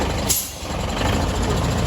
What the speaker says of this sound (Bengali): চালানো দরকার নেই হাওয়া ব্রেক